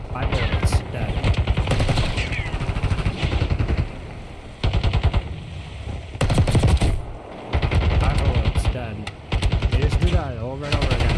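Automatic gunfire from a Call of Duty match, rapid bursts of shots in several loud clusters with short pauses between, under someone talking throughout.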